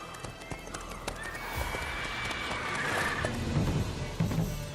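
Hoofbeats of Roach, Geralt's horse in The Witcher 3 video game, gallop steadily at close range, with a rolling clip-clop rhythm over game ambience and no talking.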